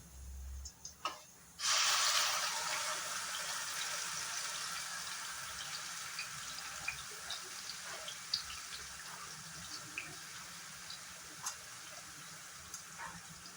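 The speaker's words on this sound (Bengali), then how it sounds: "সবচেয়ে প্রথমে আমি পেঁয়াজটা দিয়ে দেব।" Onions hit hot oil in a kadai for a chicken dry fry. After a couple of soft knocks, a sudden loud sizzling hiss starts and carries on steadily, slowly easing, with small scattered pops crackling through it.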